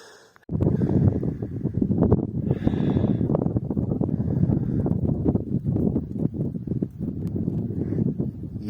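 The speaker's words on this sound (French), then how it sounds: "le seul truc que j'entends, c'est le vent dans mes oreilles" Wind buffets the microphone on a mountain hike around Mont Lozère, a steady, loud, rumbling roar that gusts and flutters continuously with no voices.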